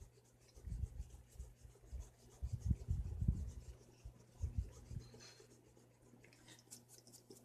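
An eraser rubbing out pencil lines on paper, soft low scrubbing strokes in irregular bursts, close and quiet, fading out near the end.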